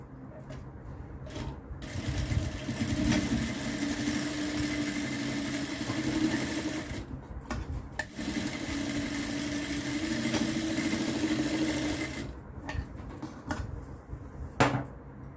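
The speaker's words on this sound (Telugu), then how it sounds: "ఈ వెనక పట్టీ ఉంది కదా, దీని బ్యాక్ సైడ్కి వచ్చేటట్టు వేసేయండి కుట్టు." A sewing machine stitches a child's long frock made from a saree, running in two sustained bursts with a brief pause between, close and fairly loud, with light handling noises at the edges.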